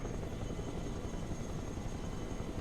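A CH-53 heavy lift helicopter in the Broken Arrow video game drones with a steady, continuous rotor and engine wash, fairly faint and unbroken throughout.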